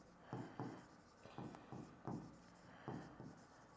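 Writing on a board gives a run of quiet, rhythmic scratchy strokes, roughly ten short marks in bursts, faint and close with no talk over them.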